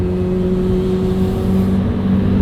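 Lamborghini engine held steady at 1,600 RPM, a loud continuous hum with a faint metallic ringing tone running through it, no voices.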